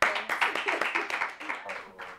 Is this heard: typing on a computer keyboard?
no